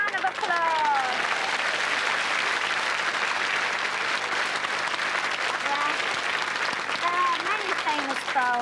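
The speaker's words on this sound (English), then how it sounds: "Let's give the BBC a round of applause." A Las Vegas studio audience of a comedy chat show applauds loudly and steadily throughout, with whoops and shouts mixed into the clapping.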